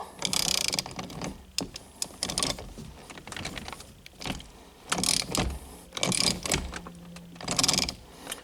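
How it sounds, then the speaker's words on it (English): A ratchet wrench cranks a steering wheel puller on a Pontiac Firebird F-body, giving repeated bursts of close mechanical clicking and grinding with short pauses between strokes. "You should hear that steering wheel break free."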